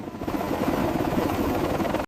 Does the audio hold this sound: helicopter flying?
yes